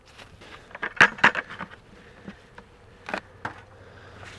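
Honeybees in a starving hive give a low steady hum, with a few louder close buzzes of single bees and soft knocks of hive wood passing near.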